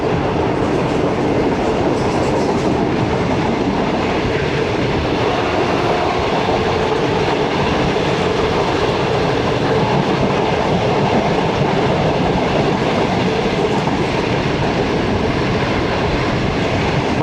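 Loud, continuous rumble and rattle of the Shalimar Express train rolling through Qila Sheikhupura junction, heard from on board with steady wheel clatter and car noise filling the whole stretch, no voices.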